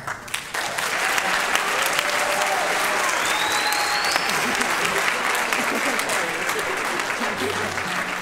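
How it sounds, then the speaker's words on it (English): Sustained, loud audience applause for choir students at a spring concert, dense and steady across the whole stretch, with scattered voices and cheers mixed in. "Choir students, round of applause."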